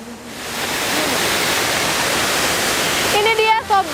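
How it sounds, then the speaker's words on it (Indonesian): Rushing water from the Parangkikis waterfall in Gambiran village, Pagerwojo, Tulungagung, a dense steady roar close by, with a few brief tonal sounds near the end. "Ini dia Sobat, air terjun Parangkikis, Desa Gambiran, Kecamatan Pagerwojo, Kabupaten Tulungagung."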